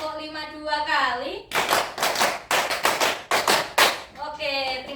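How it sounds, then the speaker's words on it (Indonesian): A class claps out a counted rhythmic pattern together, with bursts of sharp, crisp claps in quick groups. Spoken voices come before and after the clapping. "tepuk 1, tepuk 2, tepuk 3, tepuk 4, tepuk 5"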